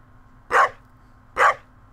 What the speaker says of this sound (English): I hear the dog there.